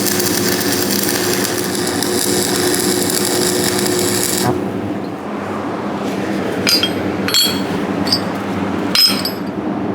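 Hammer tapping on freshly welded steel cleats of skid steer tracks during a DIY track modification, a few sharp metallic strikes spaced out after a loud machine-like whine cuts off.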